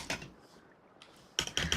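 Typing on a loud computer keyboard, heard close up as two short bursts of clacking keystrokes separated by a quiet pause.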